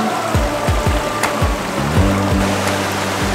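Constant loud rushing water from waterfalls at Derwent Water fills the scene, with repeated low thumping knocks underneath.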